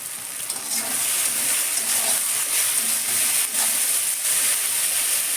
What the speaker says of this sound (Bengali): পেঁয়াজ কলিগুলো ভালো ভাজা হয়ে গেছে দেখুন